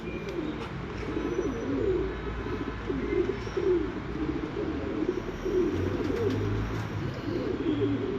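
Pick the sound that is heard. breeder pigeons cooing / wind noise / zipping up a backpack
breeder pigeons cooing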